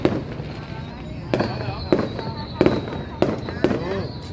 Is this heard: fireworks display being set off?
yes